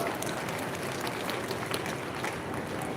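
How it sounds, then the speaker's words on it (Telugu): An audience claps at a public watershed programme meeting, producing a continuous, fairly faint patter of applause with no pauses. "మీరు కూడా వాళ్ళందరికీ ఒక్కసారి కరతాళ ధ్వనులతో చప్పట్లు కొట్టాలి"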